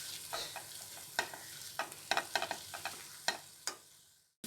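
Spices are stirred and sautéed in a hot pan for ragda patties, with soft sizzling and a series of scraping spoon strokes and taps heard close up, with no voices.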